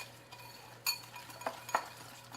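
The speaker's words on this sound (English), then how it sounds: "Just going to whisk up" A whisk clinks against a bowl while a vanilla glaze with rich vanilla extract is stirred. There are a few sharp metallic taps over quiet, soft scraping.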